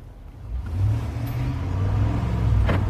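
A Ram 1500 pickup truck engine hums steadily and rises in pitch as it revs, with a faint whoosh near the end, no talking.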